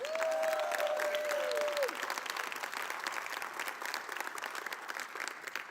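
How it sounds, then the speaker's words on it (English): A telethon audience claps steadily and fairly loudly throughout, with a brief sliding whistle near the start. "I think it deserves more applause than that."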